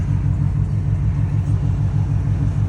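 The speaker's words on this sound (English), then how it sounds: "now I'm just gonna do some nice regular / spirited driving" A tuned car cruising on the road under steady, spirited driving, with a continuous loud low engine rumble and road noise throughout and no clear revving peaks.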